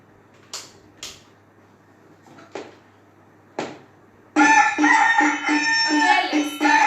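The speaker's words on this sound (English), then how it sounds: "Cocks crow in the morn and tell us to rise" A rooster crows loudly and close for a couple of seconds near the end, after a few faint, scattered clicks and taps in an otherwise quiet room.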